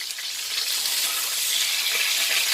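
Coffee and black pepper crusted rib-eye steaks hiss in a hot pan just after being flipped, giving a steady, even sizzle with no talking.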